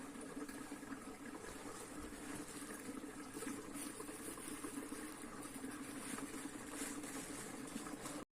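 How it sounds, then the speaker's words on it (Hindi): Water pouring into a container outdoors while filling it for bathing, a steady rushing, gurgling flow that runs continuously throughout at moderate level with no talk. "यहाँ पे मैंने पानी का डिब्बा भी भर दिया"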